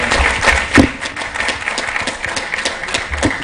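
Applause for ASHA and Anganwadi workers at a live nutrition event, a dense burst of clapping from a crowd, loud and close with some rustle throughout.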